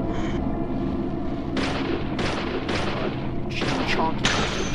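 Gunshots in the video game Deadly Premonition, several heavy booming blasts in quick succession, loud and close over a constant game soundtrack.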